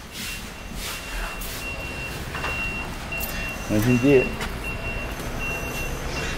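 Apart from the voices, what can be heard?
trucks' reversing beeps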